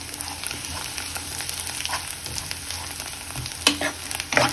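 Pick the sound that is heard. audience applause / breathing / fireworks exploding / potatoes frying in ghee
potatoes frying in ghee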